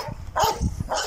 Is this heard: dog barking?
yes